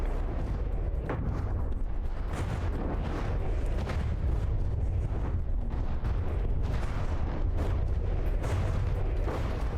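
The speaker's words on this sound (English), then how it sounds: "Those torpedoes really do some scary stuff." Continuous heavy torpedo explosions pounding a Yamato-class battleship in the naval combat game From the Depths, a loud, rumbling, sustained barrage of booms with no clear gaps.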